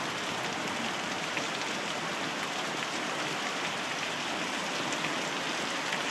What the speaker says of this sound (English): Oh my god, that's a lot of rain.